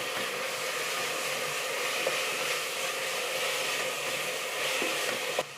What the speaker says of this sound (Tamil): தக்காளி நல்லா குழைய வதக்கிக்கலாம்.